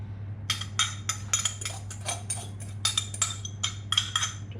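A utensil scrapes and knocks against a jug to get the last bits of pizza batter out, a run of quick, close clinks and scrapes in uneven bursts over a low steady hum.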